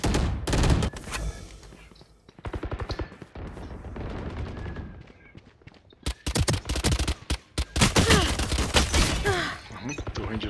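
Spectre submachine gun in the shooter game Valorant, firing in rapid bursts of closely spaced, loud sharp shots, with a long burst near the end, separated by short pauses.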